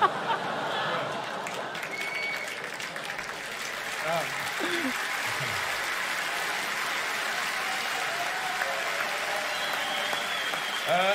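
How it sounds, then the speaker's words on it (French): A comedy show audience applauds and cheers in a steady wash of clapping, with voices and chatter mixed in throughout. "Applaudir là-dessus, c'est génial."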